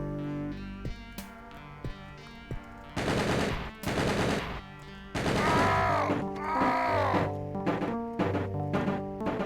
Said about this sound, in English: Machine gun's got quite a range.